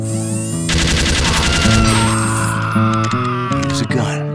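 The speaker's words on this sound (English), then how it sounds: "Use a gun." A heavy-calibre, tripod-mounted gun from Team Fortress 2 fires a loud, rapid burst of shots over a musical score. A synth-like tone weaves through the burst before it breaks off near the end.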